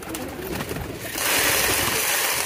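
Male pigeon cooing nearby in a loft at feeding time, soft low throaty coos over a background of rustling and wing or movement noise that grows louder halfway through.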